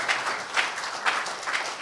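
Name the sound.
audience applause for Peter Obi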